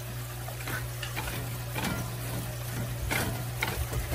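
Ground meat frying in a pan and being stirred for a hashbrown casserole, giving a steady soft sizzle with occasional scraping strokes and a low background hum, no voices.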